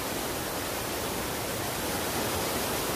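Yeh Pucuk waterfall near Bantas village in Tabanan, Bali, gives a steady, dense rushing roar that stays even and unbroken throughout, with no voices over it.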